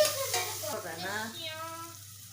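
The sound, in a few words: tomatoes added to a frying pan, Tamil couscous recipe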